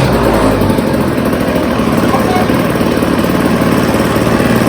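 A Nitro scooter's small engine catches and runs, settling into a loud, steady buzzing idle close by with a rapid, even putter throughout.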